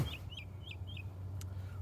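Outdoors, a bird repeats four short, quick calls in an even rhythm over a steady low hum, faint and with no talk.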